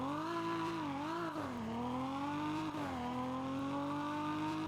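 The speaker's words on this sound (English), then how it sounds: "This thing is pretty fast, so let me just give you guys a little 0 to 60." A BMW in the Roblox game Fix it Up pulls 0 to 60 with a rising engine whine that climbs through gear shifts, steady and loud with no voices.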